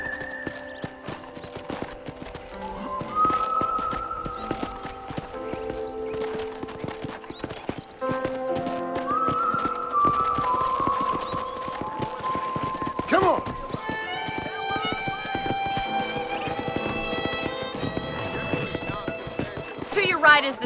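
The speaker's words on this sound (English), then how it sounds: "let's see if you can still ride a horse." Horse hooves clip-clop steadily while riding on a ranch in the video game Red Dead Redemption, with occasional neighs and whinnies, layered under game music and spoken dialogue.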